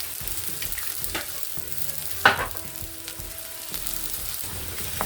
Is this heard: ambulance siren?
no